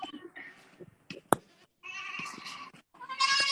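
Goats bleating repeatedly in the milking area of a goat dairy farm, close and fairly loud, with several overlapping voices and a short sharp knock partway through.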